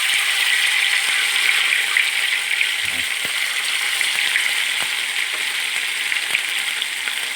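Fish frying in hot oil with turmeric and salt, a steady loud bubbling sizzle close up with occasional small pops and a faint clink, no talk.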